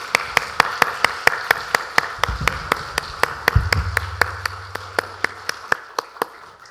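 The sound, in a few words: congregation clapping in a church service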